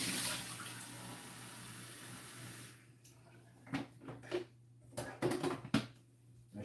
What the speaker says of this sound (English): I should fill up the teapot for after.